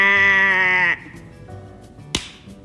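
A sheep bleats once, a loud wavering call lasting about a second, followed by quieter background and a brief sharp slap-like click near the end.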